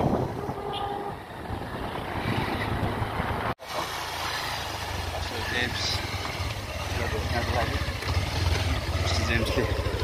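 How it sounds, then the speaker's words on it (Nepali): A motorbike engine droning steadily while it is ridden along a road, a continuous mid-loud hum, with someone speaking over it for much of the time. "पास्टर आनन्दले बाइक कुदाउँदै हुनुहुन्छ"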